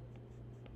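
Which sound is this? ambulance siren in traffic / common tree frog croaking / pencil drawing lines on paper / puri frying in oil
pencil drawing lines on paper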